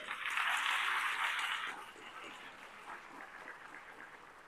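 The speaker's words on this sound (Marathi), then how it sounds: "तुम्ही सगळ्या जणांनी स्वतःसाठी टाळ्या वाजवायच्या" An audience applauding, a burst of clapping that swells briefly, then fades into a thinner scatter of claps, moderately near in an indoor hall.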